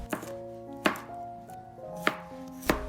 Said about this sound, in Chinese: 再来准备一下配料：青红辣椒切圈